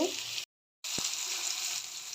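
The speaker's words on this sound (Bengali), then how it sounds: "এই যে আমার মাছ ভাজাভাজি শুরু হয়ে গেছে।" Surma hilsa fish frying in hot oil gives a steady, close hiss of sizzling that runs throughout, broken by a brief silent gap and a single soft knock.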